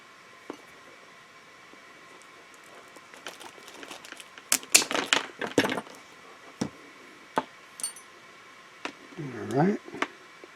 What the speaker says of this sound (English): We'll go ahead and cut that with our cable cutters.